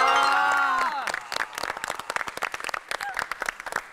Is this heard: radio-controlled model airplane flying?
no